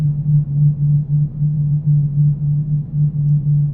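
A low, steady warning tone pulses rhythmically in the audio-only video game Manamon, a droning hum that swells and dips about twice per second, loud and alone.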